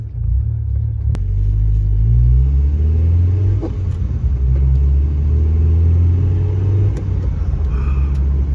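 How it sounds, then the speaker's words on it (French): Engine of a Honda Civic EK4 with a VTEC engine and a Spoon exhaust, heard as a loud, steady rumble with rising and falling revs; it is close and fills the whole clip, with no talking. "je voulais entendre mon admission et pas mon échappement."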